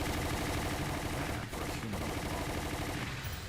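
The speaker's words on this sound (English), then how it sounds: "I'm running out of machine gun bullets" Sustained automatic gunfire from a machine gun in the video game Umbrella Chronicles, a dense, continuous burst of shots with brief dips, loud and close throughout.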